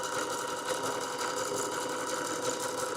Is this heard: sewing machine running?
yes